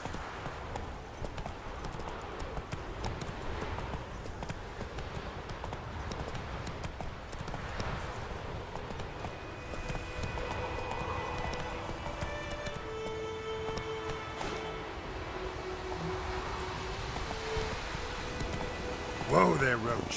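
Roach the horse gallops in The Witcher 3, rhythmic hoofbeats drumming continuously under a bed of game ambience and tonal background sounds, with a louder burst near the end.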